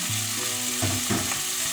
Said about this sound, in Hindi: अब हम इसमें डाल देंगे टमाटोस। मैंने 2 टमाटो लिए हैं और हम ये डाल देंगे सब इसमें